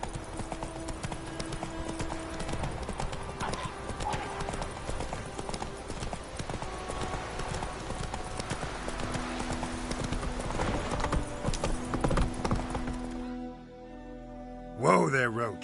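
Horse hooves clip-clop steadily in The Witcher 3 video game, a continuous rhythmic trot that runs under game music and voices, then stops abruptly near the end, followed by a brief sharp sound.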